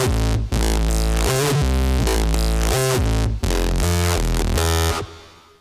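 A synth line runs through heavy saturation and distortion, giving thick, buzzing, full-range chords that change in a choppy pattern with brief gaps. It is loud and close, then fades out at the end with no talking.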